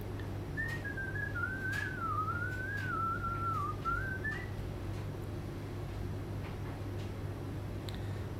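A person whistles a wavering, sliding melody for a few seconds against a steady low background hum, then the tune stops and only the hum continues.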